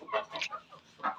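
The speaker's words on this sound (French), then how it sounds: "ici on est toujours avec les poules, donc les 6 poules, le coq et le couple de dindons" Chickens cluck in short bursts on a farm where six hens, a rooster and a pair of turkeys are kept together, several soft close calls with pauses between them and no speech.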